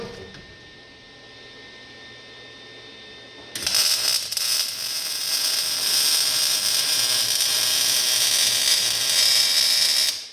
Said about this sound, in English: Now I'm going to weld the cross member.